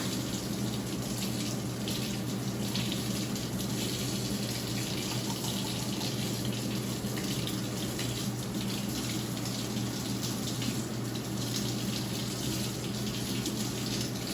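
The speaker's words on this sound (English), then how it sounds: "just to turn on the water to hot tap water" Water pours steadily from a tap in a continuous, even gush, with no other sounds.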